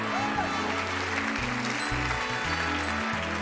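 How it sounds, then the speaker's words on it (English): Round of applause from a concert audience at a charity check presentation event, steady crowd clapping running throughout, mixed with a loud low musical or instrumental backing. "let's give our 6 charities and special guest presenters a round of applause, please"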